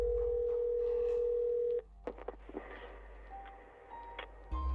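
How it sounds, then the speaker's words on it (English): An old rotary telephone in the video game Biomutant gives a steady, continuous tone for a couple of seconds, then breaks into clicks and soft mechanical noises, with a low hum underneath. "Old rotary phone."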